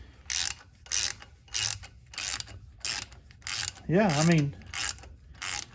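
A Quinn low-profile ratchet from Harbor Freight snugs down header bolts with repeated close bursts of rapid clicking about every half second, and someone briefly speaks partway through.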